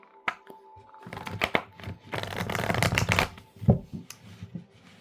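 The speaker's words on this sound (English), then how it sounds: "I gotta shuffle." Tarot cards riffled and shuffled in a few quick papery bursts, close by, with short pauses and a soft tap between.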